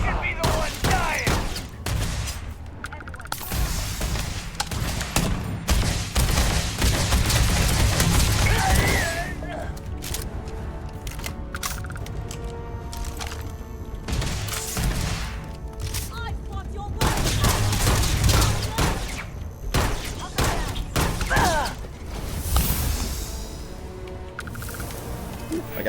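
Gunfire and laser weapon fire in the Starfield space game, repeated loud volleys and booms across a long stretch with game voices shouting over the fighting.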